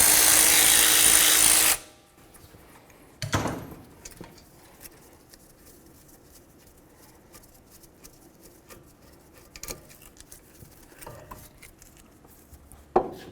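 A power tool runs in a loud, continuous burst on a 14mm caliper bolt of a 2014-16 Toyota Corolla during a front brake job, followed by scattered metallic clanks and knocks of parts being handled.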